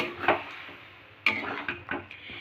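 Chilli cauliflower curry with sauce stirred in a pan, a few distinct scraping knocks of a utensil against the pan, spaced irregularly, fairly close with no talk.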